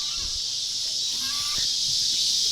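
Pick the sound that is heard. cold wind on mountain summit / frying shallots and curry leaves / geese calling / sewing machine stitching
geese calling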